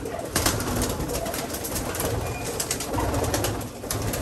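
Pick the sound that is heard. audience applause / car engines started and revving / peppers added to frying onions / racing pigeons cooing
racing pigeons cooing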